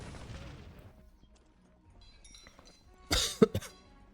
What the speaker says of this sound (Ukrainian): Вибачаю за кашель.